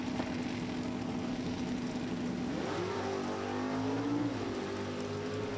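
Super Stock drag cars, a Lucas Oil Pontiac Firebird and a COPO Camaro, launch at the strip. The sound is a distant sustained engine drone that rises in pitch with gear shifts under steady crowd and track ambience.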